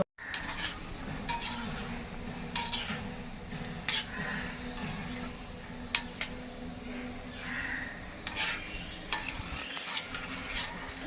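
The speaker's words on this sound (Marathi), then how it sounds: "पण तेल हलवायचं म्हणजे ते आपोआप गोल्डन ब्राऊन होते." Oil is stirred in a pan while frying Surti undhiyu, with a soft steady sizzle and scattered metallic clinks of a spoon against the pan, fairly quiet and close.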